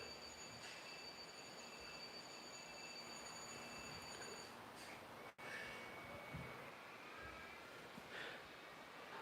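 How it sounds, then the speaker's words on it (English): An HO scale model train runs on DC track power, giving a quiet, steady mechanical rumble with a faint thin whine, heard alone without voices. "You see how the train is still running?"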